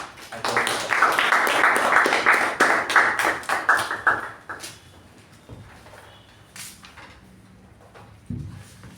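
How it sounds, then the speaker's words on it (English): An audience claps for a speaker at a Toastmasters meeting, a burst of close, dense applause that thins to scattered taps and fades within a few seconds. A few faint knocks and shuffles follow. "A round of applause to Toastmaster Shuba."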